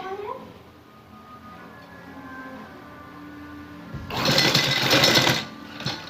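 A sewing machine stitches lace onto a sleeve design, running loud for about a second after quiet room sounds, then stopping with a brief final burst.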